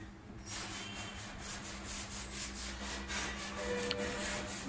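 Polish being rubbed onto a motorbike petrol tank, a steady, continuous scrubbing friction sound with rhythmic strokes over a low machine hum.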